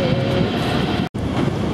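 Loud, steady rumble and rattle of a train running over a bridge across the Rhine in Cologne, close by and continuous with one brief cut.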